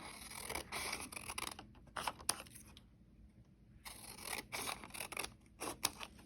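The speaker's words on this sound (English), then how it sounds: "I'm just gonna cut along the edge of my paper." Scissors snipping strips of paper for a torn-paper owl craft, a series of close, crisp cuts in short bursts with a brief pause in the middle, no talking.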